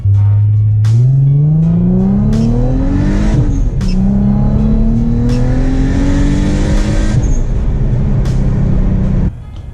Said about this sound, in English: this thing spools loud and spools really quickly, and it's great